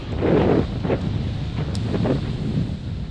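Strong wind blusters across the microphone beside a river with rough water and a big boat on an Arctic road trip, a loud low steady roar.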